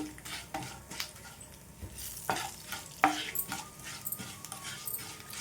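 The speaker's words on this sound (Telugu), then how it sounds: "గోంగూర పచ్చడిలోన ఇదంతా కూడా మంచిగా ఫ్రై చేసుకోవాలి." Tempering spices and lentils frying for gongura pickle, a steady crackling sizzle with scraping stirs and a couple of sharp clinks of a spoon against the pan, close and continuous.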